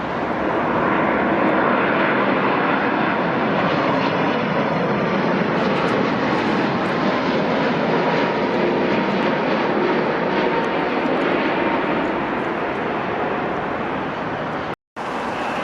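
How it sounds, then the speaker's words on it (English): A United Boeing 787-9, arriving from Tokyo Narita, touches down at Newark Liberty airport: a loud, sustained broadband jet roar that holds steady for about fifteen seconds before it is briefly cut off near the end. "the Boeing 787-9 operating United 78 finally touches down here at Newark Liberty."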